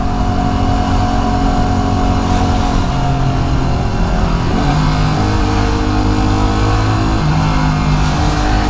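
Motorcycle engine lane splitting through dense Los Angeles freeway traffic beside the carpool HOV lane, a steady loud drone with shifting engine tones and surrounding car and road noise throughout, no talking.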